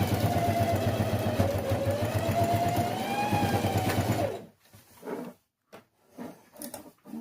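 Sewing machine stitching a fabric pencil case, running steadily for about four seconds with a whirring motor drone, then stopping, followed by a few soft handling clicks and rustles nearby.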